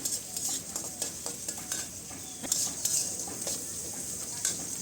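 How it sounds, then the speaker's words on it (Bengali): Onion and green chili fry in hot oil in a wok on a gas stove, a close steady sizzle broken by scraping stirs and light clinks of the spatula against the pan. "এর মধ্যে তেল দিলাম পেঁয়াজ কাঁচামরিচ দিলে ভেজে নেব ভালো করে"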